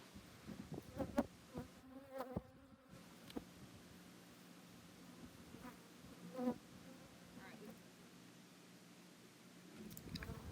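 Honeybees buzz over a hive frame being packed with pollen of different shades, a steady low drone with brief louder passes close by, continuing without talk.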